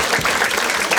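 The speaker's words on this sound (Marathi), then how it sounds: "टाळ्या वाजा एकदा याच्यासाठी." Audience at a Marathi stand-up comedy show, a dense burst of clapping from a crowd close by, continuous and loud across the whole moment, with faint voices underneath.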